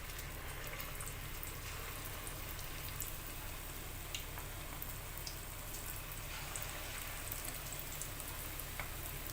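Small pakoras fry in hot oil over low heat, a faint, steady crackling sizzle that runs evenly throughout with no talking.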